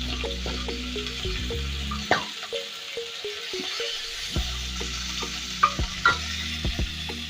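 Masala spices fry in hot oil in a pan with capsicum, giving a steady close sizzle broken by repeated scraping and clinking stirs.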